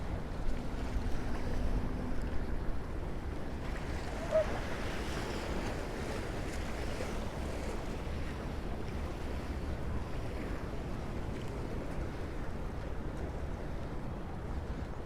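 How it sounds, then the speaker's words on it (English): Waves from a passing ferry's wake wash steadily onto the shore at Roosevelt Island in New York City in winter, a continuous surf roar mixed with gusting wind noise against the microphone. "let's get some nice water sounds over here as the waves crash in from"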